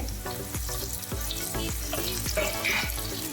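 Finely chopped hot chili fries in a pan while being stirred for chilli potato chips, a continuous close sizzle with rhythmic scraping strokes of the spatula, no talking.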